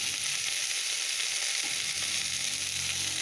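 Turmeric, carrot and coriander powder roasting in a hot pan for a home-cooked rice dish, a steady close hiss of sizzling with faint stirring scrapes, no talk.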